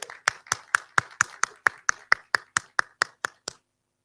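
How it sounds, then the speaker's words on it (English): Applause for a guest at a school competition grand final comes as about fifteen crisp, evenly spaced claps in a quick steady rhythm, close and distinct, then stops abruptly. "Let's give him a nice warm round of applause."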